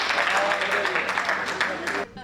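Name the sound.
audience applause at a poetry gathering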